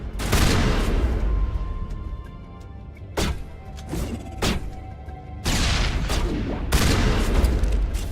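Several loud shotgun blasts boom from a Mass Effect-style game, each followed by a heavy decaying roar, with a short pause between bursts.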